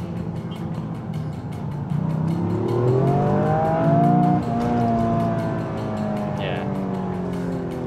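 A Toyota GR Yaris with race-tuned suspension drives and corners, its engine rising in pitch as it accelerates through the bend, then settling into a steady hum; a voice briefly speaks over the engine.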